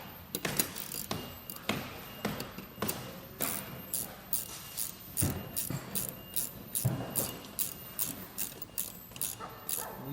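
A ratchet wrench snugs a 17mm nut and washer onto a StreetStrider steering knuckle, with repeated quick clicking bursts coming in a steady rhythm, close and fairly loud, and no talking.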